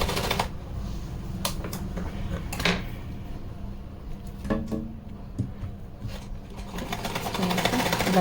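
A sewing machine runs in short stitching bursts as it attaches thin gota patti lace along the sides of a small doll's dress, with pauses and handling clicks between runs and a voice occasionally heard.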